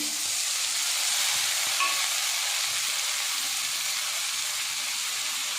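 Tomatoes and spices sauté in a pan for thattai payaru kuzhambu, a steady close sizzle that holds evenly throughout with faint stirring underneath.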